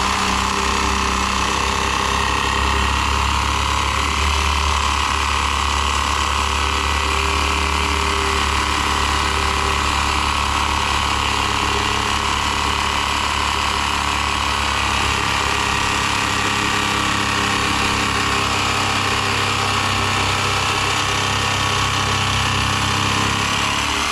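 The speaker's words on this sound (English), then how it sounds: "you hold pressure down on the reciprocating saw, letting the blade do the cutting work" A reciprocating saw cuts through a tire, a loud, continuous harsh mechanical buzz with rapid blade stroking that holds steady throughout, close up and uninterrupted.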